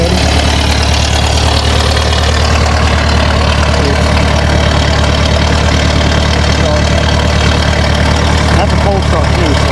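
Loud, steady engine idle just after a cold start, a continuous rough low rumble with faint ticking and no change in pace, heard close up with a voice talking over it.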